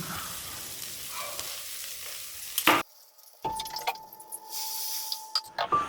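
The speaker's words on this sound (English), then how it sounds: "The aroma of fresh dough cooking on the pan fills the kitchen, mingling with the scent of lightly spiced vegetables sizzling in the pan." Dough cooks and lightly spiced vegetables sizzle in a kitchen pan, a close hiss with stirring and scraping, then a short quiet gap before clattering and sizzling resume.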